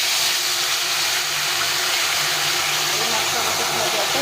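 Water poured into a simmering Bengali curry of ridge gourd, potato and taro, giving a loud, steady hiss of steam that fills the whole moment without a break.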